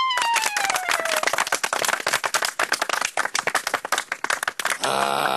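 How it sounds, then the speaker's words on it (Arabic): Dense applause with sharp individual claps fills the scene in a village celebration setting, following a falling whistle-like tone at the start and giving way to a musical sting at the end. "تصفيق"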